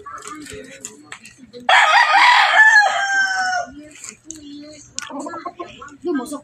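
A rooster crows loudly in one long, close call, with softer clucking and chicken noises around it and people talking intermittently nearby.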